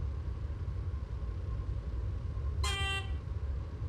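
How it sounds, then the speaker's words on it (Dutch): A GTW train in the video game Train Simulator 2015 sounds a short, nasal horn toot about two-thirds through, over a constant low rumble of the running train. "Alleen ik vind die toeter van die spurt, dat klinkt een beetje alsof je neus aan het snuiten bent."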